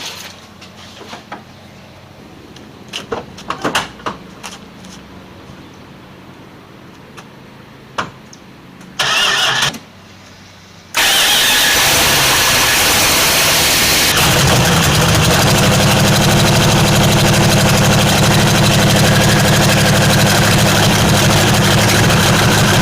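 A 1979 Chrysler Cordoba 300 engine cranks with brief starter bursts after quiet rustling, then catches and settles into a loud, steady, rumbling idle close to the microphone.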